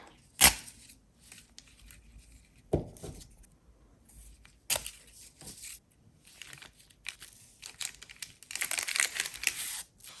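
Scissors snip a strip of paper in a quiet room, with a few sharp cuts followed by soft rustling and crinkling handling noises.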